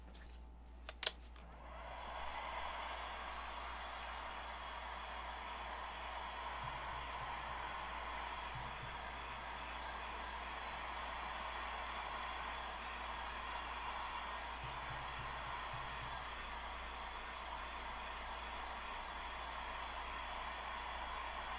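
A hair dryer blows steadily on the front of a piece in a pottery studio, giving a long, even whooshing hiss after a couple of brief clicks at the start.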